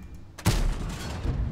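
A single heavy artillery shot in the tank game World of Tanks booms in at once, a sharp loud blast with a rumbling tail that fills the rest of the moment.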